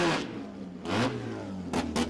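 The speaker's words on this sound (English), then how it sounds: "The little Datsun again, the Datsun 1000. 13B, gorgeous little car." A Datsun 1000 race car with a 13B rotary engine revs in a few sharp bursts, each rising blat separated by brief lulls, at moderate volume with a rough, buzzy rotary tone.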